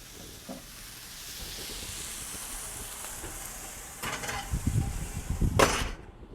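Steak sizzling and frying steadily in a hot pan with a hissing wash, then louder crackles, spatters and pan clatter near the end as the meat is moved into the oven, close and fairly loud with no talking.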